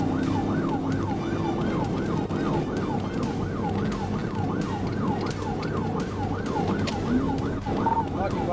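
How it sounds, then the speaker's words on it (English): Police car sirens wail during a high-speed pursuit through a quiet suburb, a loud, steady rising and falling tone over the rumble of traffic. "The quiet suburban setting was shattered by the sound of sirens"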